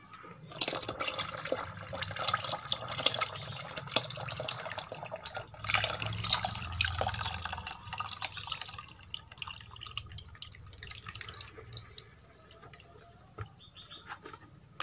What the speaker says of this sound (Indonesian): selanjutnya kita masukkan ini sebagai sumber fosfatnya ke sini ya teman-teman, sampai penuh nanti ya